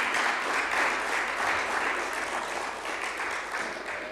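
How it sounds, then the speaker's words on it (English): Audience applause at a national tourism debate competition launch, a dense steady wash of many hands clapping together throughout, loud and close with a slight fade toward the end. "So let's give her a round of applause"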